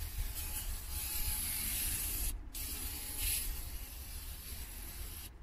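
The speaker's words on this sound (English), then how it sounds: "So what I do is I give it another quick spray down, get all the crap off there." Aerosol cleaner sprayed onto a brake rotor in bursts of steady close hiss, with a short gap before the spray resumes.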